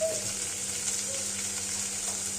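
Spices fry in a pan while being stirred, making a continuous bright sizzle throughout with faint scraping, close and steady, no talk.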